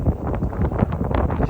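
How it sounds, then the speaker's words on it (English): Strong wind buffets an outdoor microphone at a West Texas ranch rockhounding site, a dense, steady roaring rumble filling the short stretch without a break. "It's very windy, so I may end up having to voice over a lot of this."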